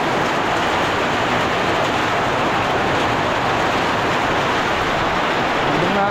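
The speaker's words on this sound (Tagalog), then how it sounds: "Umula na." Rain falls on a farm in a dense, steady hiss that holds evenly loud throughout, with no voices over it.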